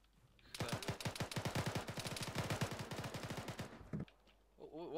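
Rapid automatic gunfire from a military shooter video game pitting Marines against Islamic State fighters, a dense sustained burst of close, loud shots lasting about three and a half seconds before cutting off, with a brief voice afterward.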